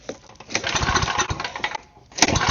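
A small gasoline engine from a snowblower, being tested for a go-kart, runs at low idle with a rough, uneven sputtering chug, close and loud, with no talk.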